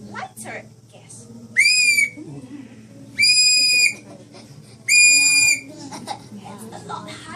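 A whistle blown with lighter gas instead of air gives three loud, high-pitched blasts about a second long each, evenly spaced, with faint voices and background chatter in the pauses between them.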